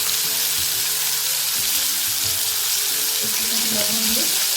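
Sliced bitter gourd and potatoes fry in hot oil in a village kitchen, giving a steady, close, hissing sizzle that runs throughout. Faint low clinks and background murmurs sit underneath.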